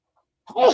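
A single close sneeze from a man during a board game call-in show, one sharp burst lasting under half a second after a brief silence.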